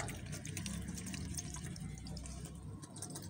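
Water poured over layered soil to wet it while sowing pepper seeds, a steady, continuous splashing trickle lasting throughout with no talking.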